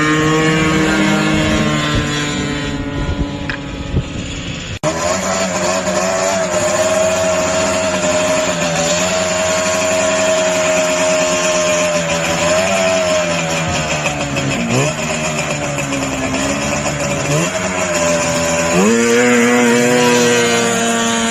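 Vintage snowmobiles roar in a grudge race, their two-stroke engines whining loud and continuous. The pitch rises and falls as they pass and change speed, with no talking.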